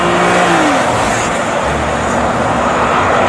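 A police Fortuner SUV rumbles past loudly, its steady engine and road noise filling the whole stretch with no siren or talk.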